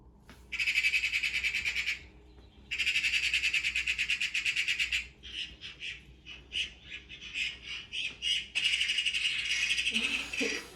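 A played recording of magpie calls: loud, harsh rattling chatter in several long bursts and shorter choppy clusters, close and dominant over a faint background hum, with no voices.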